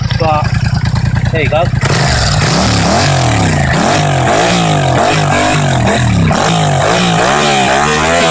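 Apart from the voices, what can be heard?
Yamaha MT-07 motorcycle revving with cut Akrapovic exhaust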